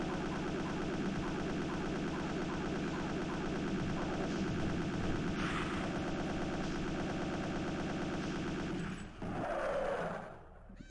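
Rocket volley in a Doom level from a video game, a dense, sustained roar of repeated blasts and rumbling fire that carries on steadily before a final louder burst near the end.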